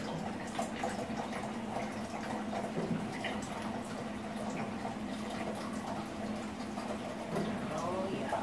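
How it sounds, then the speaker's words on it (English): Plain water pours into a big cup in a home kitchen during shrimp mofongo prep, a steady continuous splash and fill lasting the whole stretch, with a faint voice murmuring underneath. "This big cup of water. I get my water from over here."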